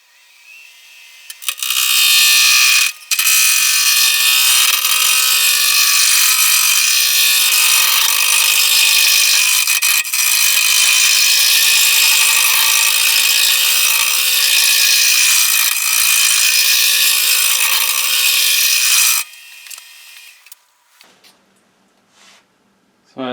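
A wood lathe turns a spindle blank for a long-tenoned handle, giving a loud, steady broadband roar and whine of the gouge cutting for about seventeen seconds after a brief start, then stopping and trailing off to near silence.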